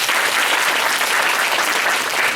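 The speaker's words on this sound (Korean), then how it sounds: "잠시 박수 한번 부탁드립니다." Brief, dense applause from a symposium audience, loud and even from start to finish with no voices over it.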